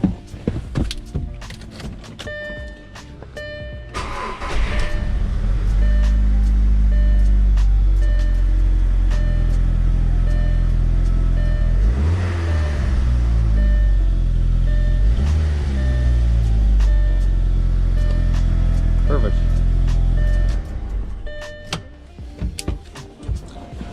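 A car engine, just repaired for a misfire, cranks and catches after a few seconds, then runs loud and steady with a couple of revs before cutting off near the end.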